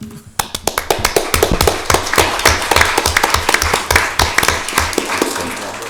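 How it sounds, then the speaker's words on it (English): Applause from an audience at a Lancaster County Board of Commissioners meeting, a burst of sharp, dense hand claps that starts abruptly and runs steadily, close and loud, with a voice briefly under it. "Round of applause"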